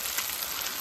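Steady hissing sizzle of food cooking on a barbecue, close and fairly loud, a continuous crackly wash with no voices over it.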